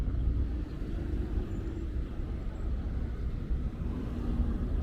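City street traffic on 10th Avenue in New York rumbles low and continuous at a crosswalk, a steady wash of passing cars with no voices.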